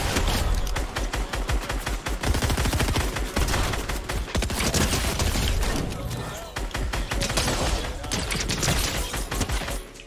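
Rapid, dense Fortnite gunfire from a weapon being tested crackles almost continuously, loud and close, with a voice talking over parts of the shooting.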